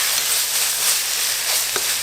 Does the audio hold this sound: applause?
no